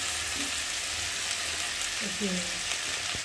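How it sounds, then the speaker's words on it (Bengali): Taro and potatoes frying in a pan give a steady, even sizzle that holds without a break, with a faint voice briefly underneath. "কচু আলুটা ভালোভাবে ভাজা হয়ে গেছে"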